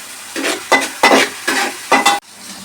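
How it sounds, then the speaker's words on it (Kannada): Chicken biryani masala with onions fries on high flame, a spatula stirring and scraping the pan in five loud, rhythmic strokes over a steady sizzle, then cutting off abruptly. "ಸೊ ಈ ಥರ ನಾನು ಫ್ರೈ ಮಾಡ್ತಾ ಇದ್ದೀನಿ"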